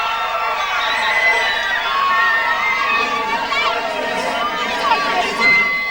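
Enormous crowd packed in for a pop group's public in-store performance, loud continuous screaming and cheering with high-pitched shrieks and chatter, close and sustained.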